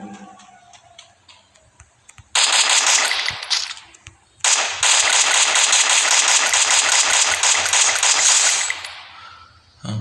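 Rapid automatic gunfire rattles from a shooting video game, with a short loud burst followed by a long sustained stream of shots, ending in near silence.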